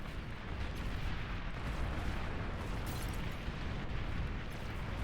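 Massive Stiletto strikes from the back line in a video game: a dense, continuous roar of overlapping explosions and booming blasts, loud and unbroken for several seconds.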